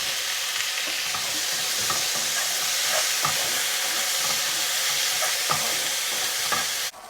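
Onions and tomatoes sizzle and fry in a pan with a steady hiss, broken by several sharp scraping stirs, close up with no talk until the sound cuts off at the end.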